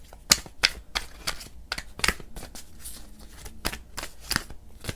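Tarot cards are shuffled and flicked in sharp, irregular riffling snaps and taps, close and fairly quiet, with no talking.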